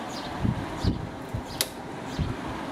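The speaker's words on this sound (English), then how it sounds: "That's low fan." A Sharp or Quasar window air conditioner running its fan on low: a steady, soft airy whoosh with a faint low hum, broken by a few light knocks and one brief sharp tick, close and quiet with no talking.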